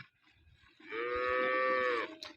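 A single long, low moo from a dairy cow, close and clear, lasting about a second against quiet surroundings.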